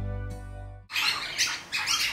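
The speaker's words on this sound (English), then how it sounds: "Every time I film it, it's like a flock of birds are just like, yeah, let's party outside of Laura's window." A flock of birds squawks loudly outside a window, harsh bursts in two waves following a low hum that cuts off.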